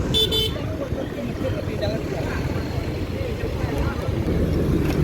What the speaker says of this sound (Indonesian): cukup lumayan macet di sini karena banyak kendaraan